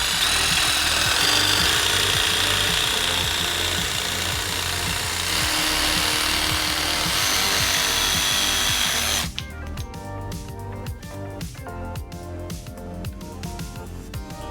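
A DeWALT DCS334B cordless jigsaw on speed setting 7 cuts hardwood maple with a loud, steady buzzing rasp. It ends abruptly into choppier, uneven strokes near the close, with no voices.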